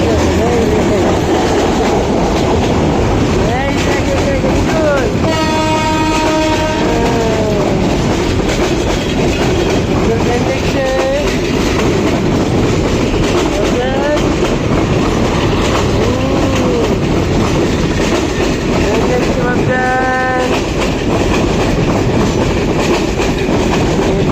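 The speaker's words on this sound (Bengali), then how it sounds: "ট্রেন আসতেছে বাবা" A large train passing close by, loud continuous rumble and clickety-clack of wheels with several short horn blasts, steady and dominant throughout.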